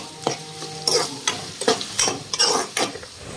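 Onions fry on high flame in a pan for tomato gojju while a spatula stirs them, giving a run of sharp scraping and clinking strokes in an uneven rhythm over a quiet sizzle; no one speaks.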